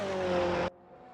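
A Ferrari 488 GT3 Evo race car engine in RaceRoom screams at high revs, loud and close, then cuts off abruptly to a low, quiet drone.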